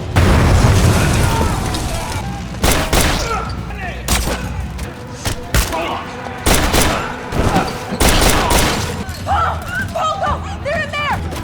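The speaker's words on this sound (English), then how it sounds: "A massive explosion tears through the compound, sparking an intense close-quarters firefight." Action-movie battle inside a compound: a massive explosion with a heavy rolling boom, followed by repeated sharp bursts of close-quarters gunfire in irregular volleys, loud and near, with shouting voices between the shots.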